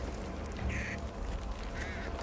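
In the zombie shooter Back 4 Blood, two short, shrill bird squawks rise one after the other over a constant rumble of game ambience.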